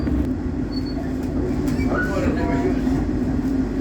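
A train rumbles past at steady loudness throughout, a constant low drone with faint wheel and rail tones, while a person talks over it.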